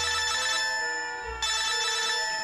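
A telephone bell rings for an incoming collect call, two loud electronic ring bursts separated by a short pause, heard alone with no talk.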